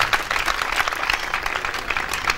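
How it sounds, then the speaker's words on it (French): Audience applause for Gervis Samba at an interactive conference, a brief burst of many hands clapping at close range with no talking over it. "On l'applaudit pour Gervis Samba"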